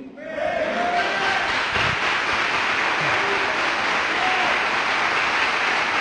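Men in a Messianic congregation applaud together, a dense wash of clapping that swells in quickly and holds steady, with a few faint cheering voices mixed in.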